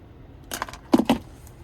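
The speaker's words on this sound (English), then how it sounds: "here's the key fob with remote start" Key fob with remote start for a 2026 Chevrolet Silverado 1500 Custom jangling: a few short, close metallic jingles in quick succession, with no talking.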